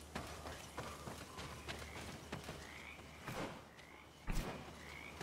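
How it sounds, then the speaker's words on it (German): Frogs croak in a forest in the game GreedFall, soft repeated calls under a low ambient bed with faint footsteps, quiet and moderately distant. "Ich höre hier Frösche, aber ich war doch gar kein Wasser."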